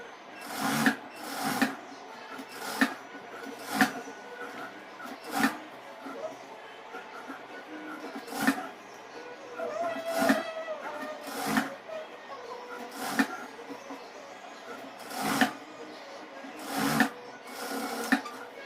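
Sewing machine stitching a chudidhar top in a tailoring lesson, short rattling bursts of stitching recurring every second or two between quieter handling of the fabric.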